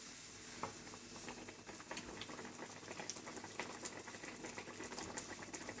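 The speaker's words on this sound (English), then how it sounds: "now it's slowly simmering" Kerala fish curry simmering in a pan, a soft steady bubbling and popping, faint and close, with no voices.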